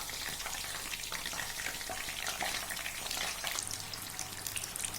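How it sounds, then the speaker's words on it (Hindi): Chicken spring rolls deep fry in hot oil, giving a dense, continuous crackling sizzle that stays loud and even throughout. "रोल हमने ऐड कर दिए हैं। अब इनको तकरीबन हम 5 से 7 मिनट तक इनको हम फ्राई करेंगे।"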